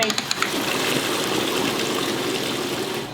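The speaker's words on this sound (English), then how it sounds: "Draining." Beer drains from a Catalyst fermenter in a steady, close gushing flow of liquid, preceded by a few quick clicks or drips at the start, continuous and fairly loud throughout.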